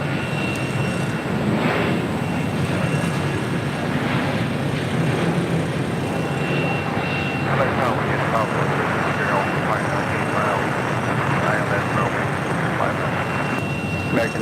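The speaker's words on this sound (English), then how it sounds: "Delta Airlines Flight 520 coming in from JFK, 767-300ER, next arrival." A Delta Airlines Boeing 767-300ER arriving at LAX on a flight from JFK makes a continuous jet roar that holds steady throughout, with faint radio-style voices under it.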